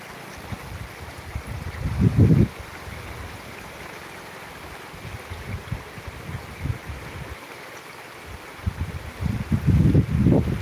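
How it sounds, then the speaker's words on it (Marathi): Floodwater of the Manjhari river rushes in a steady, broad wash, with louder low surges swelling near the start and again at the end. "पाण्याचा आवाज देखील आपल्याला येत असेल"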